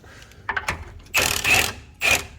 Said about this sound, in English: So you see how I'm loosening up the bolt?